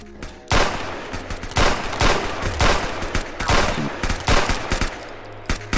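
Rapid bursts of revolver gunfire in the shooter video game Hax, loud, close shots in quick irregular succession with brief gaps, mixed with other game gunfire across the whole stretch.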